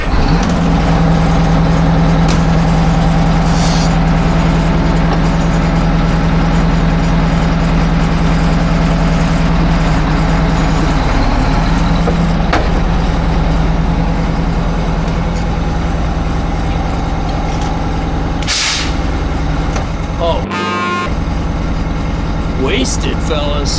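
Truck with a 6v71 diesel engine trying to drive out while its wheels spin, a loud continuous engine drone with revving swells, up close.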